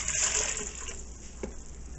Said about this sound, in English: you are going to take 3 cups of really warm water